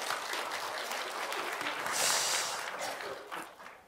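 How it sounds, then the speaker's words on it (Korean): A church congregation claps together during a Sunday worship service, an enthusiastic, steady wash of applause swelling in the middle, with no talking over it. "박수 친 김에 힘있게 쳐드립시다"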